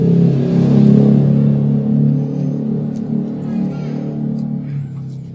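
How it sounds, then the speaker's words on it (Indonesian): Motorbike engine passing nearby, a steady low droning rumble that swells early and then holds, fading slightly toward the end without talk over it. "Memaafkan suara motor itu jadi kurang kedengaran"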